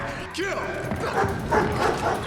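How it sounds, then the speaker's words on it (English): A Belgian Malinois working on a film set gives short yips and whimpering barks close by, mixed with voices talking over it. "And the Malinois, the dogs, they're back now in Chapter 4."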